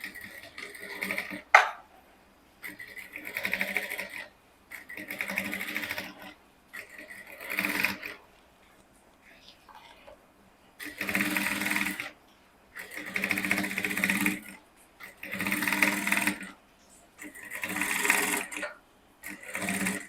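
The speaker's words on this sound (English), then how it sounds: "then I'll just proceed to sewing it down" A sewing machine stitches down a corset bone on a transparent illusion corset, heard up close in repeated runs of rapid mechanical chattering lasting one to two seconds each, with short quiet pauses between them.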